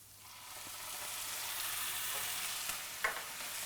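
Onions fry in a pan for a goats cheese and caramelized onion flatbread, a steady soft sizzle with occasional light scrapes as they are stirred, alone and close.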